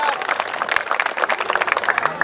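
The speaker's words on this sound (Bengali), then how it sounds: "দাদার জন্য করতালি" Applause at an event as an honoured guest is asked to stand, a dense patter of many hands clapping at moderate volume with voices mixed in.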